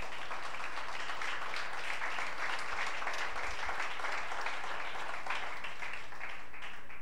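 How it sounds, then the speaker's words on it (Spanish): A church congregation claps and applauds steadily for several seconds, a dense, even wash of hands at moderate distance with no voice standing out. "Den un fuerte aplauso a Cristo."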